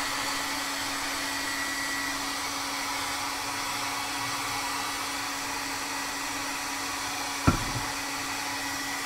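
A hair dryer blows steadily to dry acrylic paint in an art journal. The close, constant whirring drone continues throughout, broken by one sharp click near the end.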